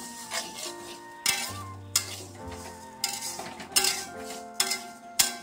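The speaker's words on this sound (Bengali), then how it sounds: "তো মুগ ডালটা আমি হালকা করে ভেজে নেব।" Moong dal fries in a pan for khichuri, with a low sizzle broken by sharp, regular clinks and scrapes of a spatula stirring against the metal, close and fairly loud.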